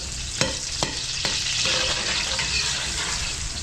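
Garlic and onion fry in hot oil in a restaurant kitchen, a steady close sizzle with a few sharp clacks of a utensil near the start, no talking.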